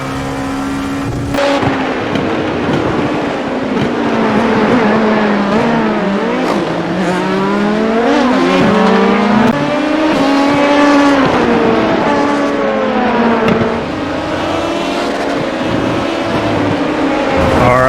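A Dallara P217 prototype race car in the iRacing simulator laps Laguna Seca, its loud engine climbing and dropping in pitch through repeated upshifts and downshifts across the whole stretch.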